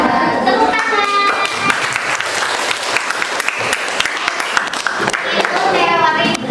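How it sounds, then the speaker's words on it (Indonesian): A classroom audience claps loudly and steadily in a continuous burst of applause, with children's voices mixed in underneath. "Tepuk tangan."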